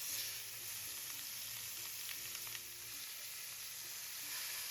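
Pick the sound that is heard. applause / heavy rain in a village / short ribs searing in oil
short ribs searing in oil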